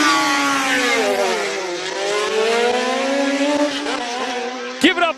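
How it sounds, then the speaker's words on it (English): Chevron P19 race car with a 2-liter four-cylinder engine on a speed run at a classic car event, its engine note rising and falling loudly and continuously as it passes, ending in a sharp burst. "Give it up for Franco Scribanti with a Chevron P19. 4 cylinders, 2-liter in capacity, also taking it to the 70s"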